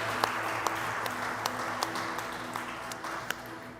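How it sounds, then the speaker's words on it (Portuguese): Applause from a church congregation during a worship service, a fairly steady wash of clapping with a few sharper individual claps standing out, at moderate level. "Vamos aplaudir o Senhor,"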